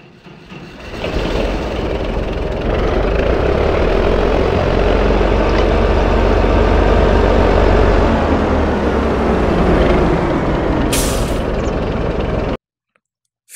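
Modded tractor engine in Farming Simulator 25 with its pitch scale lowered, a deep, loud, steady rumbling drone that holds for about twelve seconds before cutting off abruptly.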